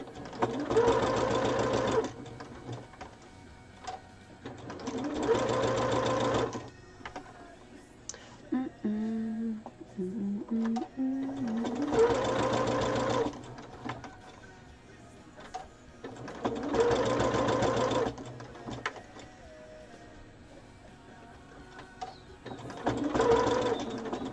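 A sewing machine stitches a small hexagon coaster, running in several bursts of steady, fast mechanical whirring separated by pauses, with quiet handling noises and a soft voice in the gaps.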